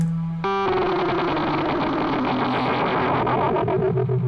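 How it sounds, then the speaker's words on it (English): A Kinotone Sparks synth played through heavy overdrive, a brief low note giving way to a dense, buzzing distorted chord that holds loud and gritty, with warbling echo-like movement, no voices. "this is what it sounds like after we've been playing with the overdrive"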